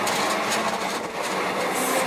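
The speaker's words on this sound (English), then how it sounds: "The train is departing for platform 17." A Melbourne suburban train departs from a platform at South Kensington, a steady rumbling roar of wheels and motors with rhythmic clatter, close and loud.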